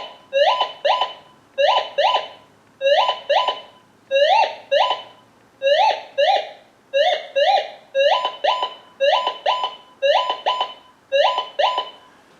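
Gold Monster 1000 metal detector sounding over a brass .22 cartridge: about ten short warbling electronic tone bursts in a steady repeating rhythm, loud and close, with no talk.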